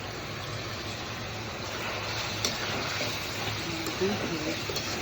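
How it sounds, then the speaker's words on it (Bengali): Pieces for a roast being fried a second time in hot oil, a soft continuous sizzle with occasional stirring scrapes, close and fairly quiet. "এখন আবার ভাজতেছি"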